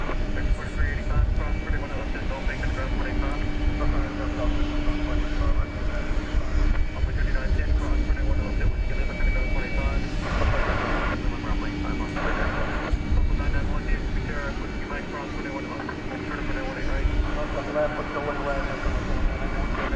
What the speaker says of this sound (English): Triple 200 ER taking off for Los Angeles, 24 years old